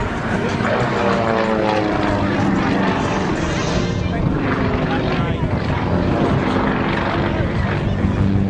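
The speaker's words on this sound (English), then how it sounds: "he'll be rolling the aircraft more than 80 times, winding his way through the sky in a dizzying set of maneuvers" Propeller aerobatic plane rolling repeatedly across the sky, a loud continuous droning engine roar with shifting pitch as it maneuvers, steady throughout with faint background voices.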